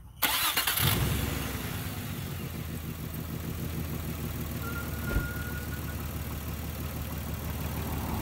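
A 1994–1999 Nissan Maxima engine cranks briefly and catches after a coil pack replacement, then settles into a steady, even idle that runs to the end; close and fairly quiet, with no voices.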